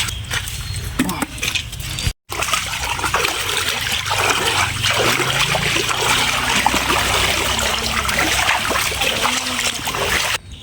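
The swollen Meenachil river in Kerala flowing after monsoon rain, a continuous loud rush and trickle of water close by with splashing textures, briefly cut near the start.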